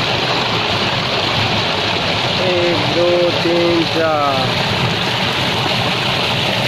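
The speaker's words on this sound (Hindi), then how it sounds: "आप देख सकते हैं पानी जा रहा है यहाँ से" Water from a Gujarat borewell rushes out through pipes into a chamber, a steady, loud, continuous gush while a man counts aloud over it.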